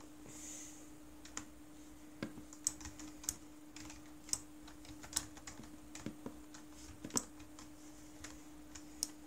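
Keys on a computer keyboard tapped while entering the Doom cheat code IDKFA, a scattered series of quiet, crisp clicks at an irregular pace, close to the microphone over a faint steady hum and no talking.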